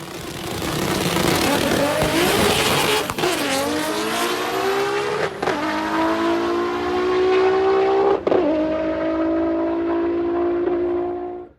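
A Toyota Supra races at the FL2K event in Florida, its loud, close engine screaming through rising gears with sharp drops at each shift, then fading out at the end.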